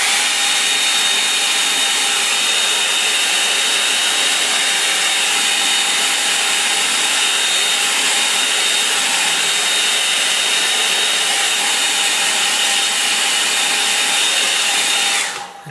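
A hair dryer blows steadily and loudly at close range for the whole stretch, drying a watercolour painting, then cuts off abruptly at the very end.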